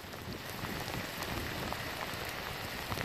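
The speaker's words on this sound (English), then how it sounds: "It is storming. Raining. Flooding." Heavy storm rain pours down steadily in a dense, unbroken hiss of drops hitting surfaces, loud and close with no talking.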